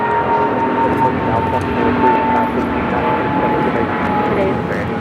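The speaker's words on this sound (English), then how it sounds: "This is United Airlines 1396 taking off to Newark on the 777-200" A United Airlines Boeing 777-200 heavy jet takes off from runway 25 at Los Angeles International, a loud, steady engine roar filling the whole stretch without letting up.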